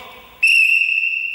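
A person whistles as a signal in a classroom odd-or-even game, a single loud, clear, sustained whistle note that cuts in abruptly after a moment of quieter background sound.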